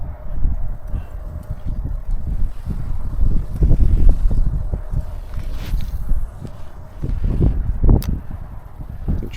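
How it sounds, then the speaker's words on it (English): Strong wind buffets the microphone outdoors while fishing, a continuous low rumbling roar with gusts that swell and ease, and faint knocks underneath. "it still seems like we have the wind at our back"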